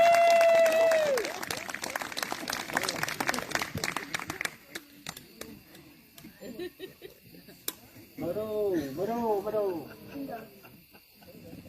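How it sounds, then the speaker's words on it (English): An audience gives a round of applause at a live event, loud at first and then thinning into scattered claps, with whoops and voices breaking through later on. "You guys give him another round of applause."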